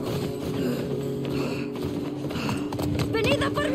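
Rhythmic hoofbeats of a galloping horse in The Last of Us Part I, with shouting voices over the top.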